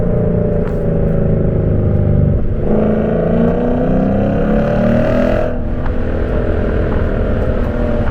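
A Lexus RC F in Sport Plus mode roars with a loud exhaust from inside the cabin, a steady heavy engine drone that climbs in pitch as it accelerates, dips briefly, then pulls hard again.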